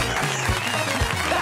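Studio audience applauding a guest on an Argentine television talk show, a dense, steady wash of clapping that holds at an even level throughout the short stretch.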